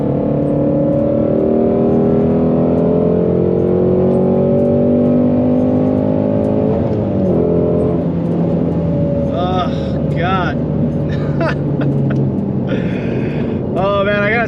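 Engine of a Final Edition Mustang Shelby GT350R Heritage, its exhaust droning steadily with rising and falling revs, a tone sweeping upward near the end, loud and close throughout with a voice speaking over it.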